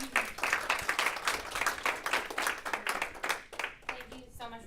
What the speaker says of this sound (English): I'd like to give Tony a quick round of applause.